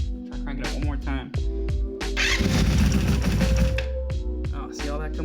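Honda Interceptor VF500F motorcycle engine being cranked over by the starter in a dripping-fuel condition, a churning whir for a couple of seconds amid close talk and other mechanical clatter.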